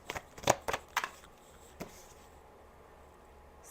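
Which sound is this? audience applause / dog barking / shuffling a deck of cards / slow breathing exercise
shuffling a deck of cards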